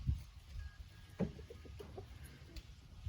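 Soft, scattered clucks from chickens nearby, a few short calls spaced irregularly over faint background noise.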